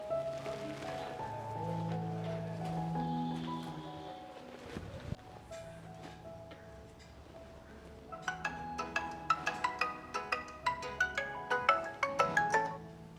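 A quiet melodic phone ringtone plays, with tones shifting from low sustained notes to brighter, rapid chiming bursts that grow louder toward the end.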